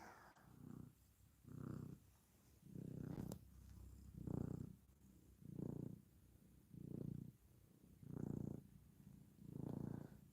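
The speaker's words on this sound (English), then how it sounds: "Skylar's purring away." A cat purrs steadily close to the microphone, a low rumbling sound rising and falling in a slow, regular rhythm of about eight breaths, with no talking.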